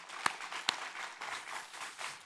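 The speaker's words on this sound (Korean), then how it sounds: "영광의 박수로 하나님께 드리겠습니다." Congregation applauding during a church service, a brief spell of soft, steady clapping with two sharper claps standing out near the start.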